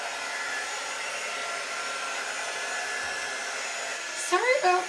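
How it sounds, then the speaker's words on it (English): A hair dryer blows steadily and close at moderate volume, a continuous airy whir running throughout with a brief faint sound near the end. "Sorry about the noise of this dryer."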